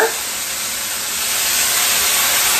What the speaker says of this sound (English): you hear the sizzle on that pan?